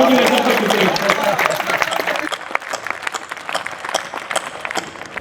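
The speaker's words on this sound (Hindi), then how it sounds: "एक बार मुझे भी तालियों से आदेशित करें।" Audience applause for a woman poet at a kavi sammelan in Udaipur, a dense burst of many hands that gradually thins into scattered claps, with voices mixed in.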